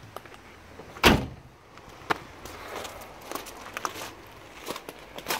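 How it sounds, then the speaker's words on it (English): Door of a 1972 Range Rover swinging shut with one sharp metallic clunk early on, followed by faint handling knocks and rustling nearby, quiet overall. "The door still opens and closes nicely anyway."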